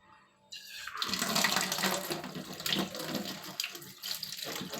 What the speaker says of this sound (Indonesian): Cara bersihkan cukup disiram begini aja.